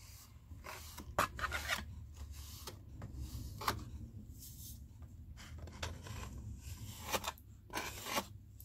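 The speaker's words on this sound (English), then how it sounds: "Just something flat and strong enough that you can scrape along the surface." A piece of sheet metal scrapes excess casting sand flat across the surface of a sand mold, giving repeated soft, gritty rasping strokes at close range, quiet and irregular with short pauses between passes.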